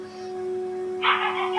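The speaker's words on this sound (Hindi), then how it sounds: "कौन सा कुत्ता भौंक रहा है अभी?" A dog barks in a short burst near the end, somewhat distant, over a steady electrical hum with no one talking.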